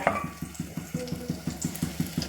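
Onion pieces frying in a pan with peanuts and garlic for stuffed brinjal curry. A soft, steady sizzle runs under a regular rhythm of stirring scrapes, close by and fairly quiet.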